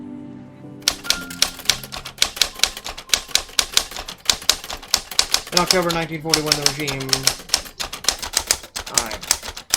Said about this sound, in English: Typing noise.